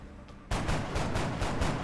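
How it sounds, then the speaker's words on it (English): Gunfire in the turn-based strategy game X-COM: Enemy Unknown, a sudden loud burst of rapid repeated shots that starts abruptly and rattles on with pulsing reports. "Take the shot, Dyson."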